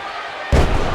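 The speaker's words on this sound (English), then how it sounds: "Now we got a body slam with force there by Wesley Underhook." A single heavy body slam in a wrestling video game lands with a loud, sudden thud, followed by a roaring crowd.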